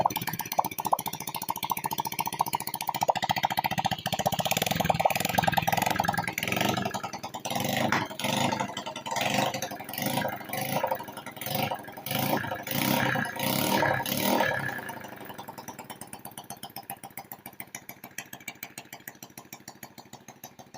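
A Honda Wave 100 motorcycle engine runs with its muffler removed, loud and raw with a throbbing pulse for about fifteen seconds before settling into a quieter, steady idle.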